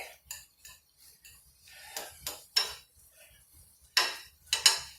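Vegetables being sautéed in a pan make a run of sharp metallic clinks and scrapes as a utensil knocks and drags across the pan. The hits come irregularly, some clustered and some isolated, with quiet gaps in between.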